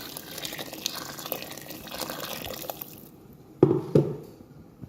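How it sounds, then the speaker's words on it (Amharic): Boiling water poured over rice in a pot for mandi, a continuous trickling splash that stops abruptly, followed by two sharp clunks of the pot or kettle and quiet dripping. "ውሃ የፈላ ውሃ ነው የምጠቀመው።"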